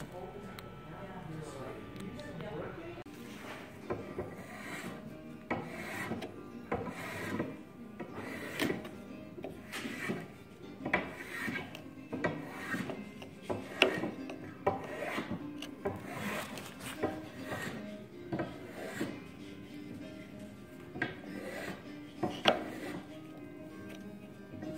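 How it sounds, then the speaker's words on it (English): A spokeshave shaves and tapers a wooden ski-pole shaft in repeated scraping strokes, each a short rasping burst at a steady rhythm, close and moderately loud, with a few knocks in between. "got this tapered down using a spoke shave"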